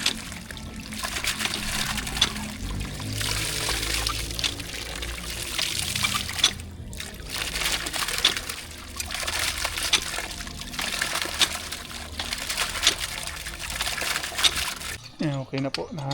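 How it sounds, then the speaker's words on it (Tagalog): Water pours steadily from a newly installed tap pipe beside a house, a continuous splashing flow that runs nearly throughout before cutting off at the end, with people talking faintly over it. "Nahanap na po yung tubig."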